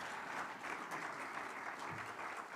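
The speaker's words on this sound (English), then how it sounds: "A round of applause for him, please." Audience members at a business forum clap in a continuous, fairly soft wash of many hands, even and sustained with no voices.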